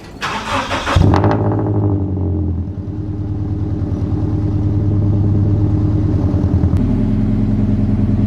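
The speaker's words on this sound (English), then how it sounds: "So here's a cold start." A Toyota 86 / Subaru BRZ sports car engine cold-starts with a brief cranking whir, then catches and settles into a loud, steady high idle that rises slightly. No speech is heard.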